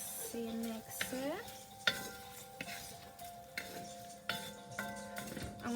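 Food sautéing in a pan at home, a soft steady sizzle under intermittent scrapes and clinks of a utensil stirring against the pan, close by with no talking.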